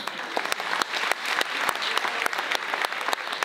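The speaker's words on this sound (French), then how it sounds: "j'aimerais qu'on l'applaudisse très fort" A gala audience applauds loudly for a comedy act, with steady, fairly close clapping and a few sharp individual claps standing out above the crowd.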